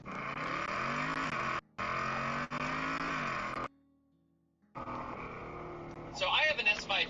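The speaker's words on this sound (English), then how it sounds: "So I have an S550 with the Magnaflow exhaust on it, and with the dual throttle bodies, this does sound different." A Ford Mustang S550 with a Magnaflow exhaust and dual throttle bodies, baffles open, drones loudly at a steady idle in bursts broken by short gaps and a near-silent pause, then rumbles again with a voice talking over it near the end.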